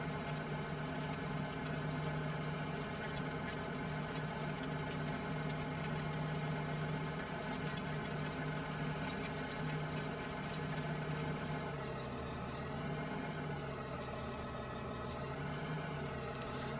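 A tractor engine in Farming Simulator 15 idles steadily with a low, even drone, its pitch dipping and wavering slightly near the end; no voices.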